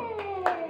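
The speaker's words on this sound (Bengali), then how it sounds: "হাততালি দাও।" A few scattered hand claps at a family birthday party after the birthday song, spaced out and close by, with people talking around them.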